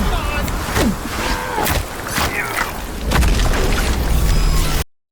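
Bomb blasts in the Black State game trailer, with deep booming explosions and rumbling debris mixed with gunfire and action noise, while people talk over it before everything cuts off abruptly.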